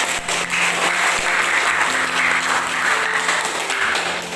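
A classroom of students claps for their own class presentations. The applause is loud and continuous throughout, with no clear talking.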